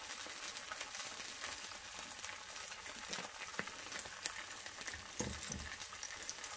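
Tinned burgers crackle and sizzle in oil in a frying pan, a soft continuous fizz dotted with small pops and occasional scraping or stirring, close up and fairly quiet, with no talking.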